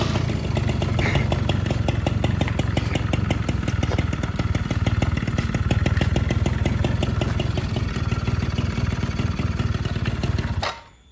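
An old motorcycle engine runs steadily and close by for about eleven seconds, a loud, even idle with a quick rhythmic firing pulse, then cuts off abruptly at the end.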